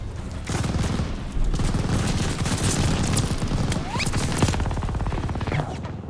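Dense, continuous gunfire from the World War II shooter Call of Duty Vanguard, rapid rifle and machine-gun bursts crackling loudly and steadily for several seconds with booming impacts mixed in.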